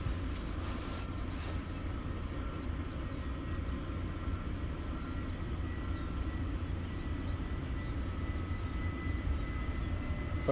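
A departing airliner at London Luton Airport gives a steady, distant jet roar that holds evenly throughout, a faint broadband rumble with no voices.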